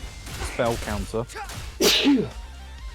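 A single sharp sneeze bursts out close and loud amid speech, following a stretch of talking voices in a game stream.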